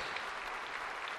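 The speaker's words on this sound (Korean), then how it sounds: "우리 박수 한번 해드립시다" A Korean church congregation claps during a worship service, a short burst of soft, even applause heard at a distance.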